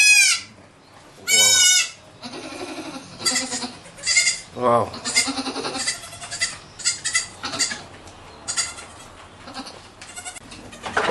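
Goats bleating at a farm where they are fed cassava, several loud, wavering calls up close that overlap with a person speaking throughout.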